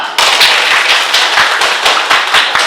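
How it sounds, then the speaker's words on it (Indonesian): A classroom group claps for fellow students after their presentation during a teaching practice lesson, a short burst of loud, close, fairly sharp and uneven handclaps with no voices over it. "kita beri aplaus untuk kelompok DNA"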